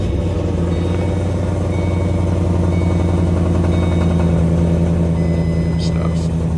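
A 700hp Ford Shelby GT500 with stock exhaust idles steadily and loudly throughout, a deep continuous rumble with a couple of faint chirps near the end.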